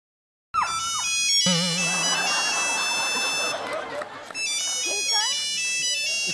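Mobile phone ringtone playing a bright repeating electronic melody, loud and close, with voices and a noisy comedy-show stage crowd around it.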